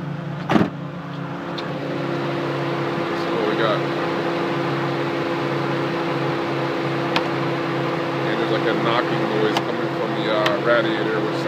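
A Nissan 350Z engine is held at a steady raised rev of roughly 3,000 RPM while its cooling system is being purged, a constant near hum lasting the whole stretch with a few faint clicks.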